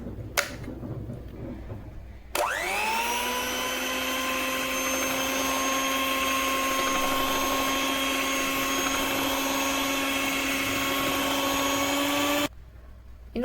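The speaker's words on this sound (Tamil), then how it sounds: "இந்த டவ் ஹூக் யூஸ் பண்ணி மிக்ஸ் பண்ணிக்கலாம்." Electric hand mixer fitted with a dough hook kneading chapati dough, whining up to speed and then holding a loud, steady motor drone for about ten seconds before cutting off abruptly, close up and without talk.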